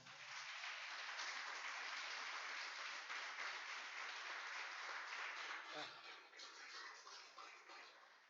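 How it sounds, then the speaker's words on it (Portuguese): A church congregation claps together for several seconds, a dense continuous patter that fades slightly toward the end, with murmured voices mixed in. "Aplauda o Senhor por essa palavra."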